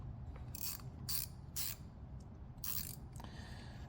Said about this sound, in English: we'll crack these loose with a fancy 8mm